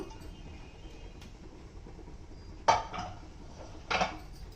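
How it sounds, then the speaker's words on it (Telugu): A pressure cooker lid opened after cooking prawn biryani: two sharp metallic clanks, one roughly a second after the other, each with a short rattling tail, close by in a quiet kitchen with no talking. "ఇప్పుడు కుక్కర్ ఓపెన్ చేసి చూద్దాం."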